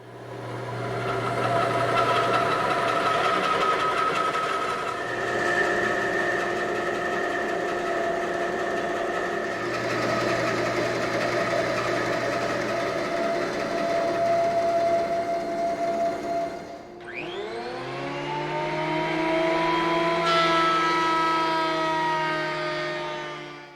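A band saw resaws heavy timber bed rails for a Mission-style bed, drill press used as outfeed support; a loud, steady whining drone runs throughout, with the pitch shifting near the end as the blade slows or the load changes.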